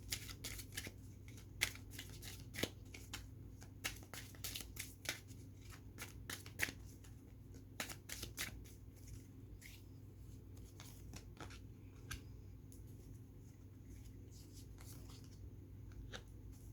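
Playing cards are shuffled and flicked for a reading in quiet rapid riffles and soft snaps, close and faint, over a low steady room hum.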